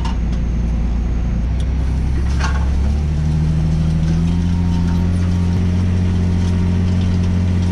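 A tractor engine runs steadily under load while pulling a 4.8-tonne seeding tool for sowing rapeseed, a loud, continuous low drone whose pitch shifts partway through as the load changes.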